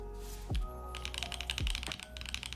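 Keystrokes on an Ayleen TKL mechanical keyboard with a deeper, less high-pitched tone than O-ring boards, coming as a quick run of close clicks and clacks with a couple of heavier low thumps.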